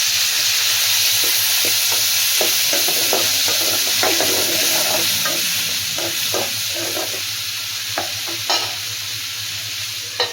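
Sliced onions and tomatoes fry in a pan for drumstick sambar, a steady close sizzle broken by repeated scraping strokes of a spoon stirring them, with no talking.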